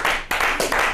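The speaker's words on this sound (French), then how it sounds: "Moi je pense qu'on peut applaudir Nadré." An audience bursts into applause at a traditional-attire fashion debate, a short, loud wash of many hands clapping close by.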